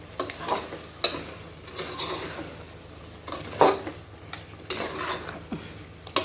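Mutton kurma frying in a pan with tomatoes, a spoon scraping and stirring in irregular strokes over a low steady sizzle, with occasional sharper clinks against the pan.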